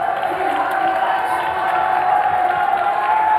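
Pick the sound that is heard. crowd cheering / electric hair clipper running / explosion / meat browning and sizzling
crowd cheering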